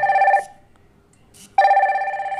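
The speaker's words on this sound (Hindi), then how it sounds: "यहाँ पे देख सकते हो कॉल आ गया है एंड यहाँ पे देख सकते हो रिंग भी हो रहा है" Fire-Boltt Talk Go smartwatch ringing for an incoming call: a loud electronic ring tone that sounds, breaks off into a short pause, then starts again, close and clear with no talk.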